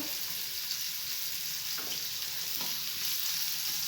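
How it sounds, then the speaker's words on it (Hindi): Chopped onions sauté in a pan for potato samosa filling, making a soft, steady sizzling hiss with a couple of faint stirring scrapes and no one speaking. "अब मैं प्याज इसके अंदर ऐड कर दूंगी। इसको थोड़ा सा सौते करूंगी।"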